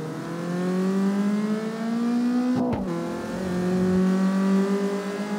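A car engine in CarX Street holds a steady, tonal drone while drifting, with a brief rev dip and tire scrub midway, then settles back into a sustained hum.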